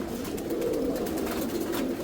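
A tame hunting pigeon coos in low, soft, continuous rolling murmurs close by, with no talk over it.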